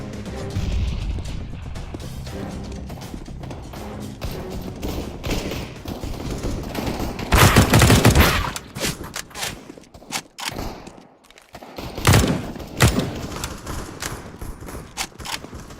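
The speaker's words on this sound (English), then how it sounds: "I'm throwing a grenade!" In a first-person shooter match, gunfire crackles in bursts, then a grenade goes off in a loud blast, followed by more scattered shots and thuds of varying loudness.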